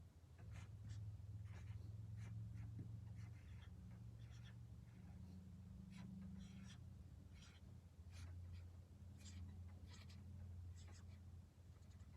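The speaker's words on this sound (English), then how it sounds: "You choose one of the words and write a sentence on your board." Marker writing a sentence on a small whiteboard during a guided reading lesson, soft scratchy strokes in short bursts, faint and close, over a steady low hum.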